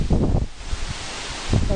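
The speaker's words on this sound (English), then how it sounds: "Wow, that's windy." Wind gusts through the trees at the Kohunlich Mayan ruins in Mexico, a broad rushing bluster buffeting the microphone, swelling at the start and end.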